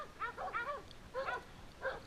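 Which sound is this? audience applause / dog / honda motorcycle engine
dog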